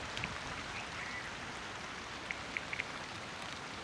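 Rain begins falling in a Konkan village during the monsoon season, a faint steady hiss of drops with a few brief high chirps on top, no talk.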